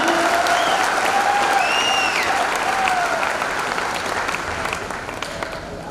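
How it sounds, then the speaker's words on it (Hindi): Loud, sustained applause from an audience at a speech event honouring mentors, a thick continuous wash of clapping with faint whistles and cheers poking through, slowly tapering. "मैं चाहूंगा कि मेरे गुरु लोगों के लिए एक बार जोरदार तालियां दो, जोरदार तालियां।"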